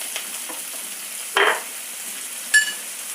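Salted onions sauté in a pan for sambar, giving a faint, steady sizzle broken by two brief, louder scraping stirs.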